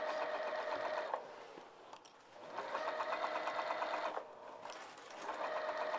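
A sewing machine stitches around the top of a fabric bag in three steady bursts, each a close, even mechanical whir, separated by short pauses.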